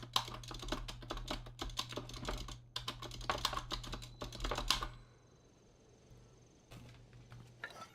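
Rapid clattering of fight stick buttons, loud and sharp like a heavy mechanical keyboard, comes in dense bursts for about five seconds with a brief pause, then fades to near quiet with a few sparse clicks.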